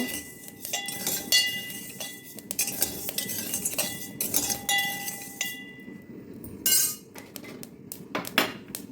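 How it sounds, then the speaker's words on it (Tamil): Parboiled rice is dry-roasted in a pan and stirred with a metal spoon, making repeated bright scraping clinks and taps in an uneven rhythm, close and fairly loud, with no one talking. "முதல்ல புழுங்கரிசியை நல்லா வறுத்துக்கணும்."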